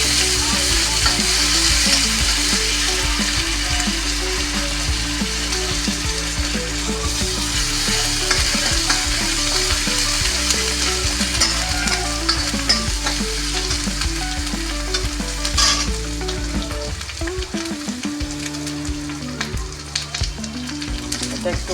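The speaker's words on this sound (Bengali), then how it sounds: "আমি এখানে হাতা দিয়েই নাড়ছি।" Onion and ginger paste sizzles loudly in a pan while a ladle stirs and scrapes through it, steady frying hiss with repeated metallic scraping strokes, close up and without speech.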